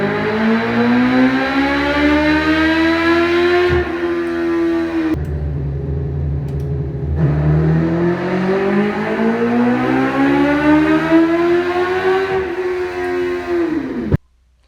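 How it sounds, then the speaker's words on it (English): Two cars run hard on a dynamometer, one after the other, each engine note sweeping up in pitch as it revs, then briefly dropping away before the next run. The sound is loud, sustained and droning, and cuts off abruptly at the end. "here's a little clip of both me and Justice's cars on the dyno"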